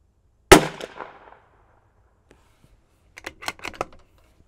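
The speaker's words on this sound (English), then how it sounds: "I'm gonna fire my second group." One sharp, loud crack from a CZ 457 Varmint MTR .22lr rifle fired at a target, fading fast, then a short run of soft mechanical clicks, likely the bolt being worked.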